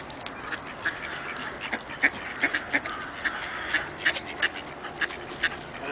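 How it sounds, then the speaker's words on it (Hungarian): Many ducks quack in repeated bursts at the Siófok harbour on a mild, overcast winter day, a busy chorus of waterfowl with moored boats nearby, moderately near over steady background noise. "Közben nagy hápogás hallatszik a háttérbe."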